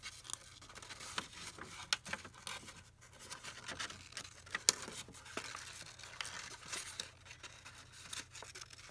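Scissors snipping around paper flowers in small, quiet, irregular cuts with faint rustling of the paper between them, close and soft, with no voices.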